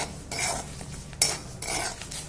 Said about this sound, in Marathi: पापड आहे हे भाजून घेऊया. हे पातळ असतात त्याच्याने सारखं हलवत राहायचं